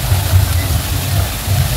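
Water pours steadily from an elephant statue fountain at a resort, a continuous close rushing splash with low voices murmuring underneath.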